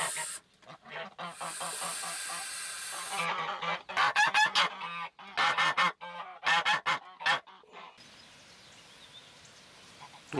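Geese and a gander on a farm honk loudly in bursts of harsh, repeated calls, close by, with short pauses between volleys and a quieter stretch of outdoor noise at the end.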